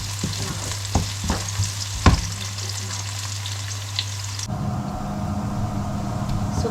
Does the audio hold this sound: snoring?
no